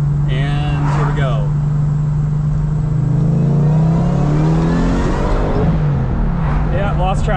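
A supercharged Lexus GS400 engine pulls hard in second gear from about 3,500 rpm, its loud droning note rising and then sagging under heavy wind noise while someone talks over it inside the cabin.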